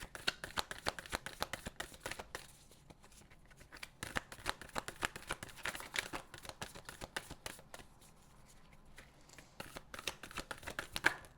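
Tarot cards are shuffled close up in quick, repeated riffling bursts with brief pauses between rounds, and no one speaks.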